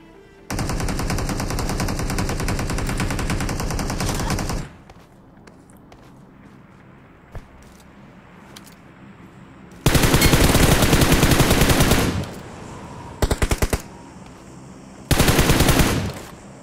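Automatic gunfire in a battle royale video game comes in long loud bursts, a roughly four-second volley, then a quiet gap with footsteps and a single shot, followed by more sustained bursts and short rattles.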